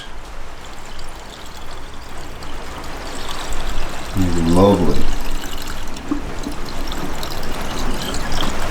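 Liquid glugs from a bottle into a Honda CBR125R racing motorbike in a short burst of pouring amid background noise, with a person speaking briefly.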